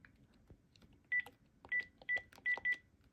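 A Panasonic DECT baby monitor handset dials another extension, sounding a series of five short electronic tones in an uneven rhythm over a faint, quiet room background.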